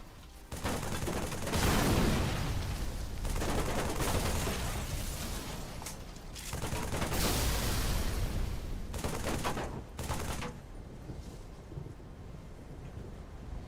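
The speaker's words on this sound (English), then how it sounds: "Still have no clue why this level keeps exploding." Repeated loud explosions and gunfire-like blasts tear through a modded Halo 3 level featuring a custom Scarab, in bursts that swell and fade over several seconds.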